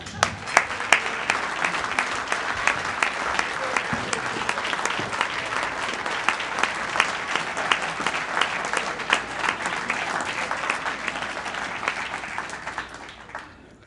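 A Rotary club audience gives sustained applause after a speaker's introduction, a full room of dense clapping that holds steady for over ten seconds before fading.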